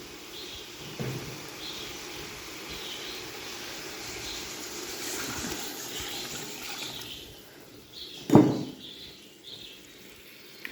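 Water pours and trickles into a cooking pot of chicken for beef keema pulao, a soft continuous splashing with a sharp louder splash near the end, in a quiet kitchen.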